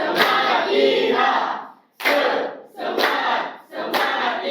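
A classroom of students claps and shouts a rhythmic spirit cheer in unison, loud close bursts of chanting and clapping repeated in four phrases with brief pauses between them.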